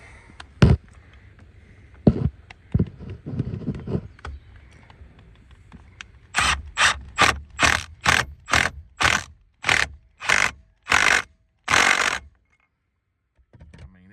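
A ratchet drives a Torx bolt on the steering wheel of a 2009–2014 Ford F150 during airbag and clock spring replacement, a few scattered knocks giving way to a run of about a dozen rapid, loud ratcheting bursts.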